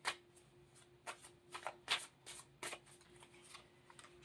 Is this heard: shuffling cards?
yes